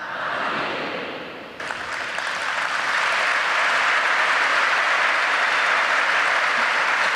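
An audience at a sermon breaks into applause: clapping builds, jumps louder after a moment, then holds as a dense, steady roar of many hands with no voices over it.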